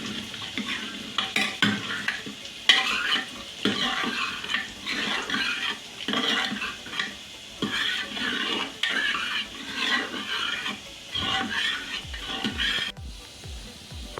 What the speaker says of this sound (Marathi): तोपर्यंत मी ह्याला फेटून घेते.